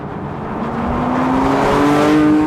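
Porsche 911 S/T engine with six individual throttle bodies revving, a rising mechanical howl that climbs steadily in pitch and volume, loud and close with no talk.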